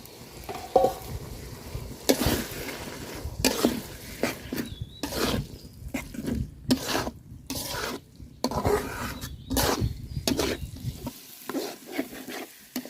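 Silver carp roe and belly pieces fry in spiced oil, with a steady close sizzle and crackle as a spatula stirs and scrapes the pan in repeated strokes over several seconds, and no one speaks.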